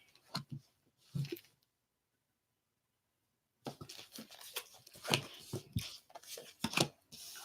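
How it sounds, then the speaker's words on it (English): Tarot cards are shuffled by hand in quick riffling bursts, one short burst, a pause of silence, then a longer run of crisp flicks and taps, faint and close. "All right. Last shuffle."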